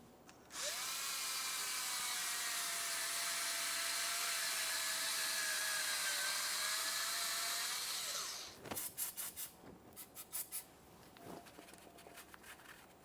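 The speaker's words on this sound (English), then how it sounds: "I'm using a smaller bore brush this time." A small bore brush scrubs rust from the pinch bolt port of a front lower control arm on a 2014-2018 Mazda 3, a loud continuous whirring rub lasting several seconds, then stopping and giving way to a few short scraping strokes.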